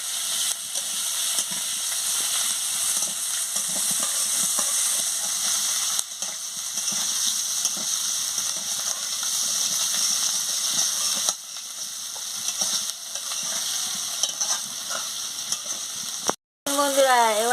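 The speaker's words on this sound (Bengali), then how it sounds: "দিয়ে ভালো করে মশলার সঙ্গে আলুগুলোকে কষিয়ে নিচ্ছি।" Potatoes fry with spices in a pan, giving a steady close sizzle and hiss that runs throughout, with occasional stirring scrapes.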